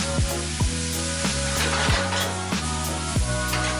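Meat for lasagne sizzles and fries in a hot pan, with a steady crackling hiss broken by regular scraping stirs, up close and with no talking.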